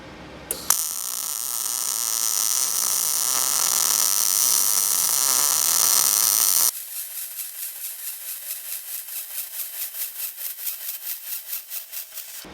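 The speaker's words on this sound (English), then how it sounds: "Let's do a little MIG welding." A Blue Demon Bluearc 200MSTI multiprocess machine MIG welding on 110 volts at about 205 inches per minute and 18 volts, giving a steady buzzing arc hiss for several seconds, then a pulsing rhythmic crackle that fades out.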